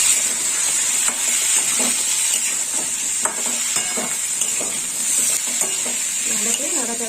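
Turmeric and chilli powder sizzle in hot oil for a drumstick-stalk chhechki as a splash of water goes in, giving a steady close hiss broken by scattered stirring scrapes and clinks, with no talking.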